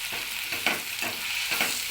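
Spinach chutney with tamarind and turmeric stirred in a pan, a spoon scraping in steady strokes about every half second over a soft, continuous sizzle, close and alone.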